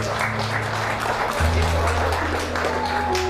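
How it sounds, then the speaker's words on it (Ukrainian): Wedding guests at a small celebration in Ukraine applaud the groom, a brief, moderate burst of clapping layered over sustained background music. "Так, оплески, будь ласка, для Володі."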